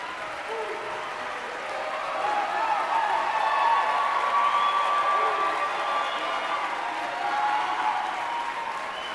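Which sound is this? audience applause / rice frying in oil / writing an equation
audience applause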